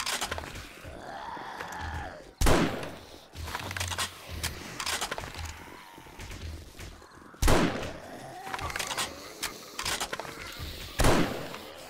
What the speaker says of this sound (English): this rifle's not doing nearly as much damage as it should be, even though I'm hitting them in the head most of the time